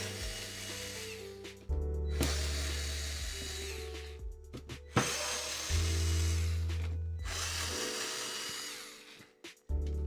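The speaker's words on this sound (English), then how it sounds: "I will unscrew these real quick so we can solder in the holders." Small power screwdriver backing screws out of a Nintendo GameCube console during modding, whirring in several close bursts of a few seconds each with brief pauses between them.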